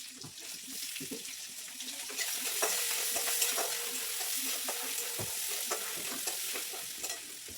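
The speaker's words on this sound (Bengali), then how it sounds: "আর এখানে রেখেছি আমি একটু রসুন কুচো করে, তার সঙ্গে একটু আদাকে ছেঁচে নিয়েছি, এটা তেলের উপরে দিয়ে দিচ্ছি" Dried chilli, chopped garlic and crushed ginger hit hot oil for a Bengali pui shak chorchori, giving a bubbling sizzle mixed with clattering stirring and splashy, watery crackles, louder in the second half.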